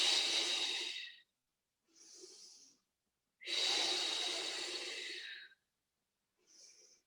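Two long, forceful exhalations during a Pilates exercise, each followed by a short, quieter inhale. The breaths are heard up close and alone, with no talking.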